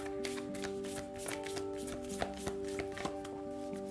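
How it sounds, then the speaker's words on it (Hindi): Tarot or oracle cards being shuffled by hand, a run of soft riffling clicks and taps laid over steady background music, with no talking. "शफल कर लेते हैं।"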